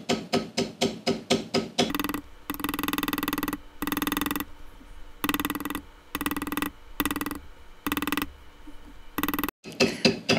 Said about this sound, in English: now we'll go ahead and take our beveler. We're just going to bevel that flower.